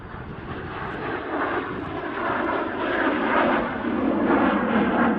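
A Cessna A-37 jet aircraft at the RAAF Edinburgh airshow gives a steady, loud engine roar that swells slightly as it passes, with no voices.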